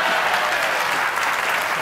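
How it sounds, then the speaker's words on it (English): Steady, dense applause from a late-night television studio audience, loud and continuous with no talk over it. "I think you're supposed to applaud now"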